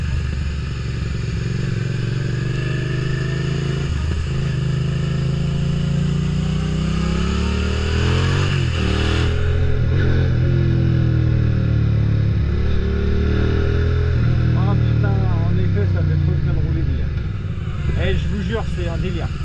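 A vehicle drives through a village on rough roads with a continuous loud engine drone that rises and falls as it accelerates, while someone talks over it throughout.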